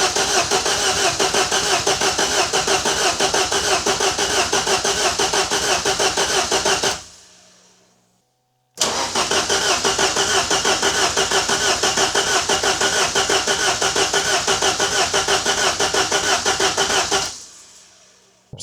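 An old car engine that has sat unused for fifteen years cranks loudly and steadily with the starter, in two long bursts of about seven and nine seconds separated by a brief silence, without catching.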